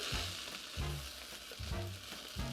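An egg frying into king prawn fried rice gives a steady, close sizzle of hot fat throughout, with a few low thumps from the pan or spatula.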